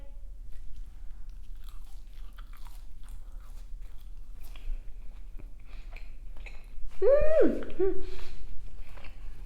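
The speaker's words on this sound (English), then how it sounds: "First bite." Biting into a Lebanese steak kebab plate with rice, fries, baba ganoush, pita and garlic sauce: soft, faint chewing and crunching over a quiet background, with a short voiced murmur of enjoyment near the end.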